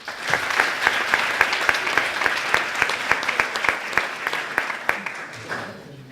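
A crowd applauding steadily for several seconds, dense clapping that tapers off at the end.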